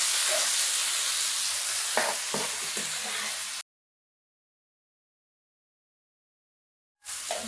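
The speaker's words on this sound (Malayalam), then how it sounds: "ചിക്കൻ പൊരിച്ച എണ്ണയിലാണ് നമ്മൾ ഈ ഉള്ളിയൊക്കെ വഴറ്റിയത്" Sliced onions sauté in hot oil left from frying chicken, giving a loud, steady close sizzle with a few stirring scrapes. The sound cuts out completely for a few seconds, then the sizzle returns.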